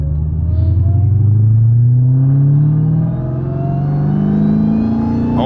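A Dodge Hellcat making about 800 wheel horsepower pulls hard, its deep engine rumble rising steadily in pitch through the gears, loud and close from inside the cabin, with a brief dip at a shift before climbing again.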